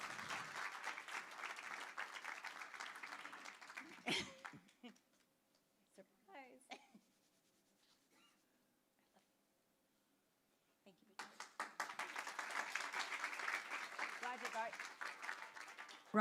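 Audience applause at a Saha community gathering, a dense roll of clapping that fades into quieter moments with scattered noises, then swells again into full steady clapping.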